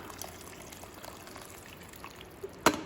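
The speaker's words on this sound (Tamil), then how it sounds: "இப்போ கெட்டலில் தண்ணி போட்டு வச்சுருந்தேன், அதை சேர்த்துக்கலாம்." Hot water poured from a kettle into a pot of mutton biryani, a soft continuous trickle ending in a brief louder splash at close range, with no talking.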